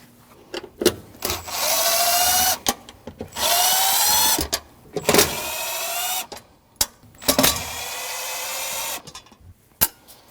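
A power drill driving out Phillips screws from the fuel pump access panel of a 2003-2008 Subaru Forester 2.5L, in several separate close bursts, each with a rising whine and clicks between them.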